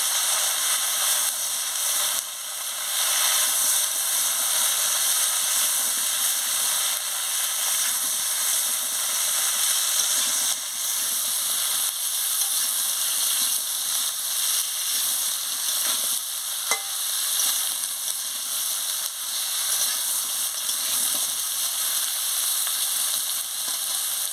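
Carrot, potato, eggplant and beans sauté in oil for a fish curry, a steady, close, broadband sizzle running unbroken throughout with faint stirring scrapes and no talk.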